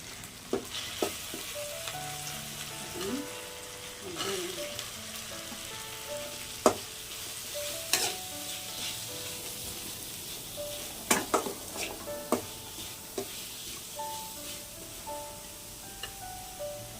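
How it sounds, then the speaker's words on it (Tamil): Onions frying with masala in a pan, a continuous sizzle with frequent spatula scrapes and light clinks against the metal, no voices. "இதெல்லாம் கொஞ்சம் இதாகும்போது ஃப்ரை ஆகும்போது நம்ம வெங்காயத்தை ஆட் பண்ணிக்கணும்."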